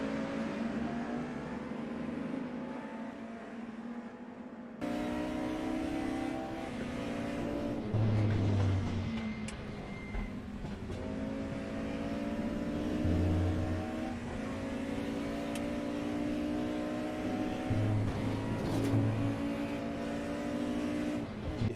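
Mercedes and BMW DTM '92 touring cars racing at Spa-Francorchamps in a racing game, engines droning and rising in pitch through gear changes, with cars passing close several times under a steady roar.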